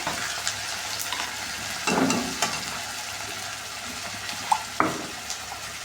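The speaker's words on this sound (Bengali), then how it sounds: "মশলাটা ভালো মতন কষাতে থাকবো কিছুক্ষণ ধরে" Spice paste of ginger, garlic and cumin with turmeric, salt and chili frying in a pan, with a soft continuous sizzle and occasional stirring scrapes, close and fairly quiet.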